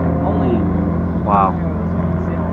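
A supercharged McLaren 570 at a Cars and Coffee meet gives off a loud, close, steady low engine rumble with a droning tone, while people talk nearby.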